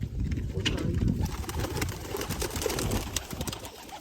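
Pigeons coo steadily and repeatedly close by, a dense low warbling chorus with faint background noise throughout.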